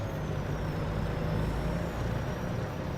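A truck in the Farming Simulator 25 video game runs steadily with a low engine rumble and faint air-brake hiss. The sound stays continuous and fairly loud for about three seconds, with no talking.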